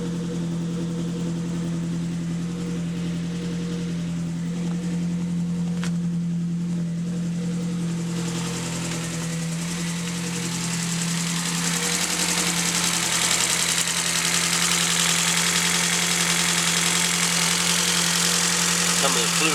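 A Ford Focus idles after a cold start on a freezing day with no power steering, its engine humming and knocking steadily up close while a hiss grows louder midway.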